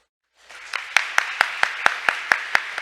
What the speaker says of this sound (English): let's give our panel of experts and moderator another huge round of applause